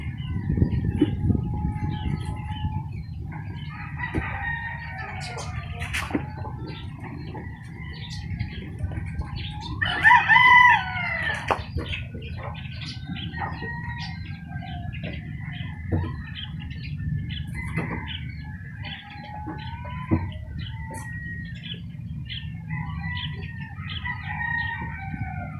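Lemon Sweater gamecock roosters, eight to nine months old and freshly bathed, crow in a few loud bursts, one standing out near the middle, over a steady outdoor background hum.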